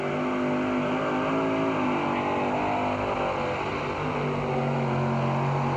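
A 1989 monster truck roars at full throttle during a pulling race in Buffalo, NY, with a loud continuous engine drone that stays steady and close throughout.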